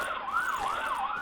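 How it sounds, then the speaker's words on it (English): A city emergency vehicle siren wails steadily outside, its pitch rising and falling in smooth sweeps, clear and fairly loud with no talk over it. "as you just probably heard, at least I think you did, sirens happen quite often."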